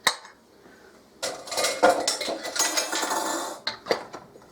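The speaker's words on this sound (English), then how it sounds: "I'm going to put my lids on them." Metal lids being set onto glass canning jars filled with baked beans, a busy run of close clinks and clatters, with a quieter pause before the clattering builds.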